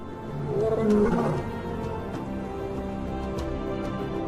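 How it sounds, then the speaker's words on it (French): Lions in Namibia's Namib desert give a low, rumbling roar that swells early and then settles into a steady background growl, heard alone with no talk. "Seuls 150 lions vivent encore ici."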